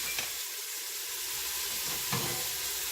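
Onions sauté in a pan for a sausage lentil soup, giving a continuous close, even sizzle and hiss with a couple of brief louder stirring scrapes.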